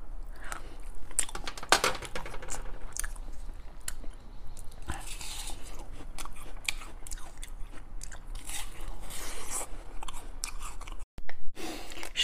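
Ice being bitten and chewed close to the mic, with repeated crisp crunches and cracking bites over a steady, dense chewing texture, broken by a brief silent gap near the end.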